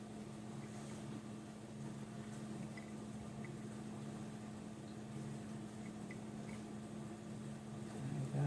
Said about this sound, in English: Excuse the noise in the background, it's my dishwasher's running